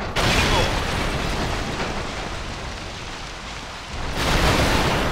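A gasoline explosion in Resident Evil 6 erupts as a loud, sustained rumbling blast that fills the whole clip, with a roaring, crackling wash swelling again near the end.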